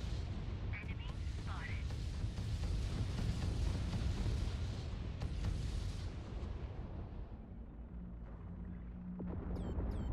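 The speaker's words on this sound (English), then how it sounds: "Incoming missiles." Missile impacts and explosions in the space-combat video game Fractured Space form a dense, continuous rumbling barrage of booms and blasts under battle noise, loud throughout and easing slightly near the end.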